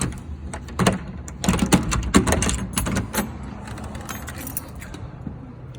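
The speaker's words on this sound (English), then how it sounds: "gotta unlock the door here" Close metallic jingling and clicking of keys unlocking a hotel room door, several scattered taps and rattles with a few sharper clacks, no speech.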